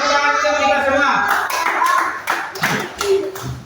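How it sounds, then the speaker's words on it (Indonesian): Children in a classroom or church group clap, a burst of scattered, uneven hand claps and taps following a sustained tonal sound, loud and close, with some voices mixed in. "tepuk tangan kita semua"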